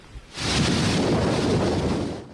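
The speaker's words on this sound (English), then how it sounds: "This wall of wind and rain is only getting worse tonight" Hurricane Irma's wind and rain storm roars as a loud, continuous broadband rush that swells in after a brief quiet start and holds steady, with low rumbling gusts beneath the hiss.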